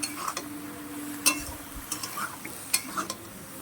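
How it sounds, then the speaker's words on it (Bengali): A spatula stirs a Bengali shrimp and fish chorchori in a pan over a soft sizzle. Several distinct scrapes and taps land at irregular moments, fairly close. "এবার এটাকে ভালো করে নাড়তে হবে"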